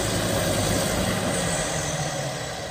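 A 1998 John Deere 850C dozer with a four-way blade runs its diesel engine at a steady idle, a continuous low rumble with no break over a few seconds.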